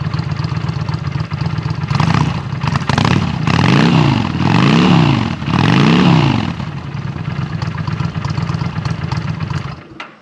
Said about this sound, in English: I like the way that a small V-twin sounds with the exhaust on it.